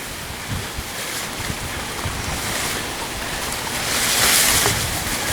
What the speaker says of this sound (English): This here being the pond